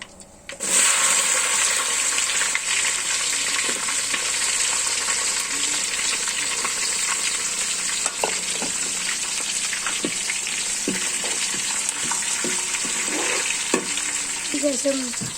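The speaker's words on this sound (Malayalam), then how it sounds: "നമുക്കിനി വെളുത്തുള്ളി ഇടാം." Garlic sizzles steadily in hot oil for a Kuttanadan fish curry, a loud continuous hiss marked by occasional stirring scrapes and clinks, with no voices.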